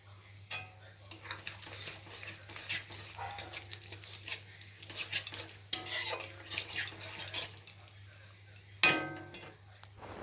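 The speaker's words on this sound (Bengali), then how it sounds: "এর মধ্যে আমি এবার গোটা গরম মশলা দিয়ে দেবো" Whole garam masala, cardamom and cinnamon, stirred into hot oil in a pan, with a soft background sizzle under repeated metal spoon scrapes and clinks, plus one sharper clatter near the end.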